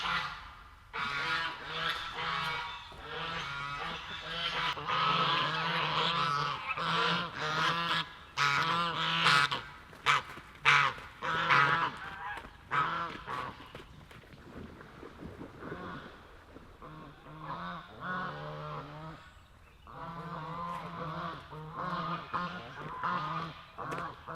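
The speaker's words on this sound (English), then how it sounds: "the geese are coming over" A flock of geese honks loudly and continuously overhead, the calls thinning briefly midway before swelling again.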